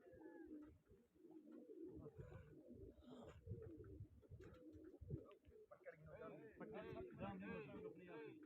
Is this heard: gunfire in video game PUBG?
no